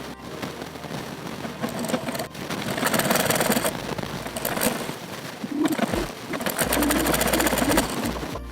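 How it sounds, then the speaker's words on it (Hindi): Sewing machine stitching a seam along blouse lining fabric, a steady close whirring run that rises and falls in bursts with brief pauses between passes. "अब इस पर हमें यहाँ से एक पैर का मार्जिन रखते हुए पूरे में सिलाई लगा लेना है"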